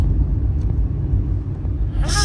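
A car rumbles close by at a family stop in Lonavala, its low engine drone steady and loud for about two seconds before fading as it pulls off.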